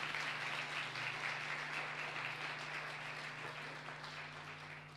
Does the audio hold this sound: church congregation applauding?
yes